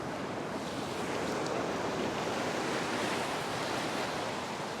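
Ocean surf breaks and rolls continuously on a beach, a loud, steady wash of broadband roar with wind buffeting the microphone and no distinct pauses between waves.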